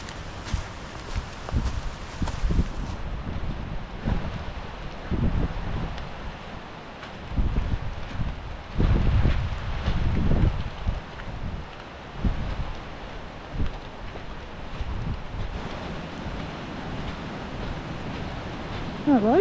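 Gusty wind buffets the microphone in low rumbling surges, with rustling and occasional footsteps outdoors on Dartmoor by the River Okement in autumn; no clear speech.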